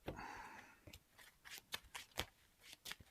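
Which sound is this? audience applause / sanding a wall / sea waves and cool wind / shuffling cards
shuffling cards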